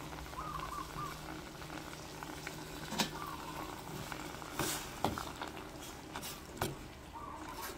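Water for Thai mushroom soup boils in a pot, giving a soft, steady bubbling with occasional louder pops and clicks, fairly quiet and close.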